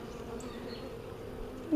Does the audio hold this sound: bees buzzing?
yes